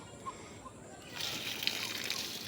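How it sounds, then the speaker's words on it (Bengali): Water splashes and sloshes onto tomato plants in a village garden, quiet at first and then a steady, faint pour with light splatters, birds chirping softly in the background. "এখনো টমেটো গাছগুলো আছে জল দেওয়াতে"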